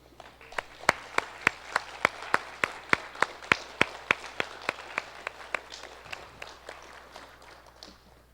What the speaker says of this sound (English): Students, please rise and give a round of applause as a show of gratitude to those here supporting you tonight.